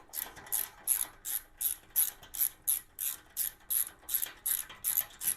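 Rapid ratcheting clicks from a hand tool loosening the four skid plate screws on a LIFAN KPT 400 motorcycle, about a dozen even bursts in a steady rhythm, close and clear with no talking.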